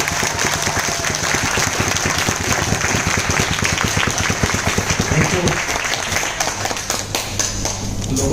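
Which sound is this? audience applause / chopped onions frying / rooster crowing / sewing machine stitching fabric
audience applause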